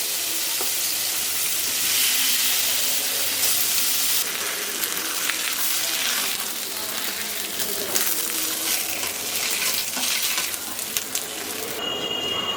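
Tilapia frying in hot mustard oil in a pan, giving a steady, loud, broadband sizzle that holds from start to finish, with no talk over it.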